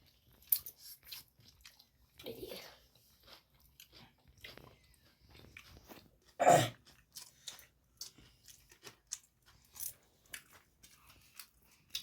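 Close-up eating of biryani with rice, a little potato, cucumber and onion: quiet, irregular crunchy bites and chewing sounds, with one louder sharp crunch midway and no talking.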